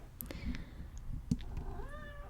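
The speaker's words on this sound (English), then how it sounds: "as soon as I do that, the kitty cat goes mad" A cat meows nearby, a few short rising calls against quiet room noise.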